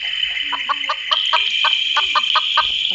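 Chickens clucking in a steady run of short, repeated calls, close and fairly loud over a constant high-pitched background hum, with no talking.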